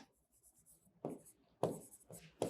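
A pen writes by hand during a practice journal-entry exercise, giving short, close scratchy strokes that start faint and turn into three louder, distinct bursts toward the end, with no talking.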